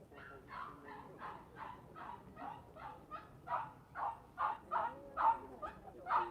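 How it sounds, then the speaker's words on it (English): A King Charles Spaniel barks and yips in a steady run of short, repeated calls, growing a little louder and more insistent toward the end, with no other sounds around it. "That dog barking isn't music to your ears?"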